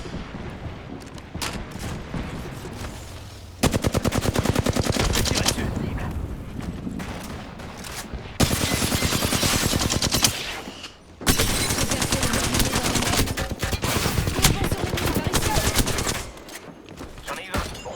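Apex Legends gunfire in rapid automatic bursts, loud dense volleys of shots separated by short quieter gaps, with faint game sounds between.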